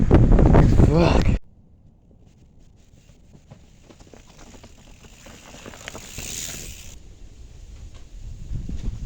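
Strong, cold wind gusts of up to 40 mph sweep across Lake Murray at 27°F, a steady roaring rush that swells toward the end after someone briefly talks at the start.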